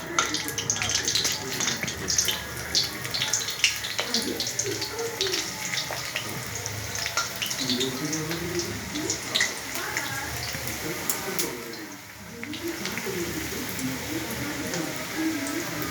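Small, thin onion fritters (piyaji) sizzle in hot oil in a small wok, a dense, continuous crackling and bubbling hiss that dips briefly near the end, with a voice heard at times.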